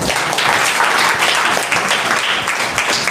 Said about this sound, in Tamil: கைத்தட்டுமே.